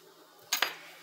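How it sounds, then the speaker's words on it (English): A utensil stirs peanut butter cookie mixture once in a bowl, making two quick close scrapes and clinks against the side, brief and fairly quiet with nothing else heard. "So I'm just stirring it once"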